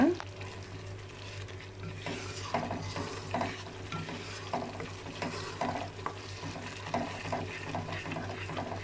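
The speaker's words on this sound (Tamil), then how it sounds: "இந்த மசாலா நல்லா வேகட்டுங்க" Chana dal masala cooks in a pan with a soft, low sizzle while a spoon stirs it in irregular scraping strokes, fairly quiet and close, with a faint low hum underneath and no talking.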